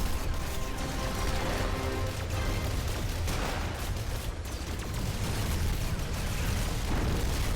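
Sustained roar of explosions and rapid gunfire in the video game Executive Assault 2, a loud unbroken battle din with overlapping booms and bursts throughout.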